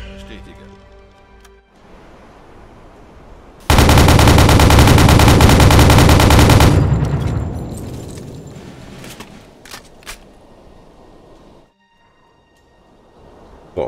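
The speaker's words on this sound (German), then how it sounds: "Und der nächste Schuss, Binny." A sudden burst of rapid automatic gunfire from a submarine's deck gun in the video game Uboat roars loudly for about three seconds, then fades into clicks and quieter mechanical sounds.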